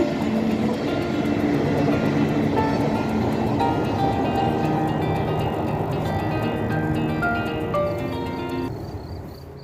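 A train rolls past close by with a loud, dense rumble and clatter that gradually fades toward the end.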